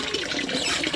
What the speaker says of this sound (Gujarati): નળ ચાલુ મૂકી દીધેલું છે.